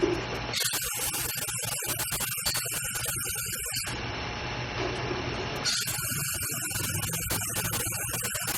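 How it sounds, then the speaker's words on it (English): Plastic primer spray paint hissing from an aerosol can onto a storage container, two long bursts with a short pause between, close and fairly loud. "my primer for plastic spray paint, and we're just going to give this a good coat"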